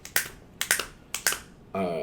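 Fingers snap several times in sharp, close clicks, some in quick pairs, followed by a voice starting to talk at the end.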